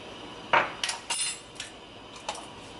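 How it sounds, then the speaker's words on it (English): A utensil scrapes and clinks against a pan while a creamy Parmesan garlic pasta sauce with Cajun chicken and shrimp is stirred: a few sharp, faint metallic taps and scrapes spaced over a quiet background. "And then just mix all of this together until it comes to a boil and it looks super creamy."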